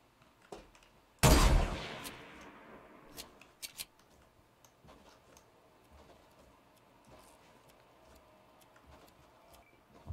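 One loud, sharp gunshot from a weapon in Fortnite cracks close and rings out briefly, followed by a few faint clicks and ticks in an otherwise quiet scene.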